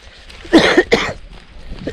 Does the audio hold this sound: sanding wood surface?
no